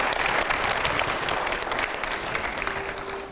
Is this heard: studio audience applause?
yes